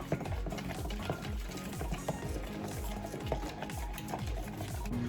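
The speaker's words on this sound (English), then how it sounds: "You're gonna be stirring for a good at least 6, 7, 8 minutes." A spoon stirs puppy formula milk in a bowl to break up lumps, clinking and scraping in a steady fast rhythm over a faint background hum.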